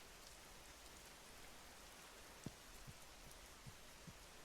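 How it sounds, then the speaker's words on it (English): Rain falls in the video game Schedule I, a faint, even patter that holds throughout, with a few soft, isolated drips landing near the end. "You love this rain. Sounds amazing."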